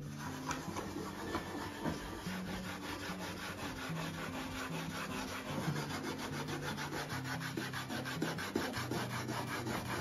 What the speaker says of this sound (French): Je n'humidifie pas ma laine d'acier.